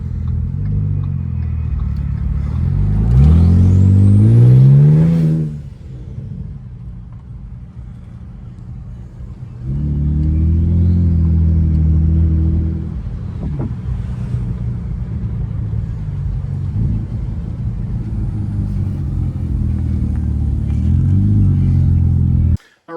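A 2013 Ford Taurus SHO fitted with a Ford Flex EcoBoost engine driving, a low rumbling engine that swells through two strong accelerations with rising pitch, easing to a steady cruising hum between them.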